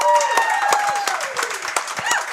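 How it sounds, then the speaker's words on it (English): A crowd claps for head coach Todd Moebes at a coaches' show, steady applause with sharp individual claps close by, while a tonal sound and voices carry underneath. "y'all give a huge round of applause to head coach Todd Moebes"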